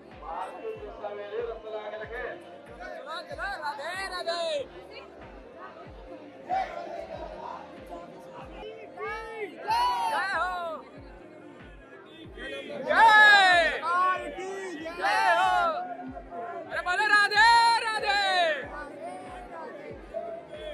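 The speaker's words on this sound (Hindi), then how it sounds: "लेकिन आप भीड़ देख लो, भीड़ देख लो, बाके बिहारी मंदिर जा रहे हैं" Crowd of pilgrims walking toward Banke Bihari temple in Vrindavan, with a dense babble of many voices and chanting that swells in waves, under a steady rhythmic ticking and a person speaking nearby.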